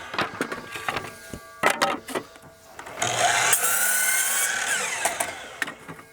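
A saw cuts cedar shake siding in one loud, sustained whine of about two seconds, close by, after a few sharp knocks and handling clatters.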